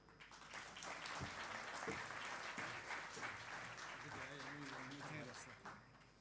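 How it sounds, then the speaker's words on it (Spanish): Audience applause for Cristóbal Prado, president of an international cities conference, steady applause from a seated crowd lasting several seconds, with a voice speaking over it midway. "Un tremendo aplauso, por favor"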